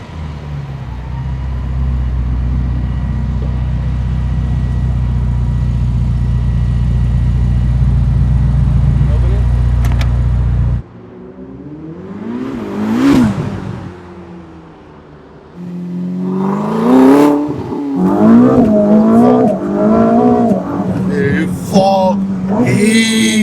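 A Ferrari SF90 hybrid supercar drones loudly and steadily from inside the cabin while driving, then the engine falls quieter as people talk excitedly over a brief rising surge.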